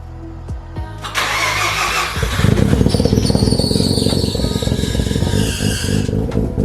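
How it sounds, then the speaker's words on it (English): A Mazda RX7 engine cranks on the starter for about two seconds, then catches and settles into a loud, choppy, rapidly pulsing idle with a faint belt squeal, recorded up close. "Let's quickly start her over and hear some nice little brap brap brap brap brap noises."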